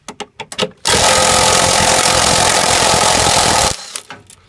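A power tool whirs loudly for about three seconds while bolts are removed from a washing machine motor, with a few short taps and clicks just before and after.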